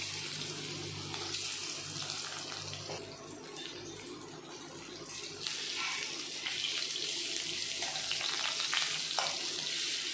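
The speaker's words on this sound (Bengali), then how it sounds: "এখন মাছগুলো আমি ভালো করে ভেজে নেব।" Sea puti fish, rubbed with salt and turmeric, fry in hot oil in a wok with a dense, rushing hiss that swells and crackles throughout.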